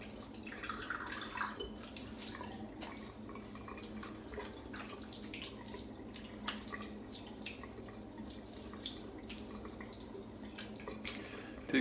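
Water running and splashing while a double-edged safety razor is rinsed after a shave, faint and steady with small drips and trickles throughout.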